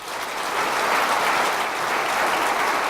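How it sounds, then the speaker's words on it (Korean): A large audience gives sustained, dense applause after a company CEO's New Year speech at KAMCO, swelling slightly and then holding steady throughout. "미래비전과 희망의 메시지를 전해주신 사장님께 다시 한번 뜨거운 박수 부탁드리겠습니다"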